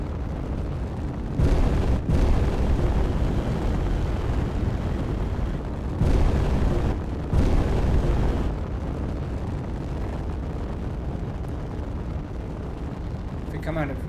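Enemy guns in Space Engineers rumble as a deep, steady wash of heavy fire with a few louder swells, lasting the whole stretch while voices talk underneath.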